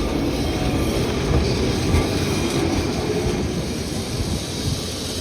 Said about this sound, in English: there's a tram coming our way